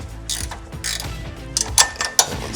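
A ratchet clicks in short rhythmic bursts, close and distinct, as bolts are snugged on a Luverne rear grip step mounted to a RAM ProMaster van frame.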